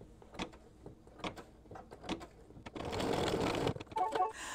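An embroidery machine stitching down fabric for an in-the-hoop mug rug gives a quick, steady rhythmic whirring and tapping, then shifts to a denser, louder mechanical rush of running stitches near the close.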